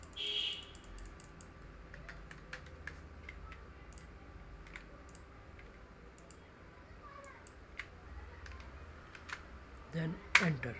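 Sparse computer keyboard clicks and key presses while working in an Excel spreadsheet, faint and scattered with quiet pauses and a sharper tap near the end; a voice talks faintly in the background.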